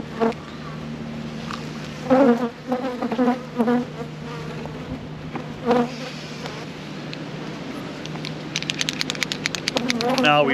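Honey bees buzz around nuc frames, a dense steady drone close by, with louder individual bees passing near and someone speaking intermittently over them.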